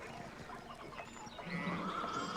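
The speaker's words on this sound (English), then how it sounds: "Oh, that's a horse, that is." A horse whinnies in the medieval adventure game Pentiment, a short rising neigh over a busy background of ambient game sounds, with a faint higher bird-like call near the end.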